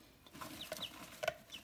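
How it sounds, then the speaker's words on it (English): Young Rhode Island Red chickens cluck softly in a few short, faint calls close by, with no talking. "we're going to be looking at my four chickens that I got this year"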